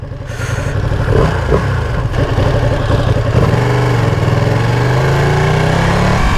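A Ducati Panigale V2 motorcycle ridden in race mode, its engine droning loud and close, rising into a sustained steady roar without speech.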